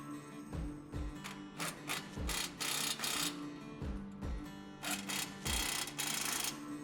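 A ratchet runs lower coilover nuts onto studs during a ReadyLift leveling kit install on a 2015-2020 Ford F150, making quick, rhythmic metallic clicks in short bursts.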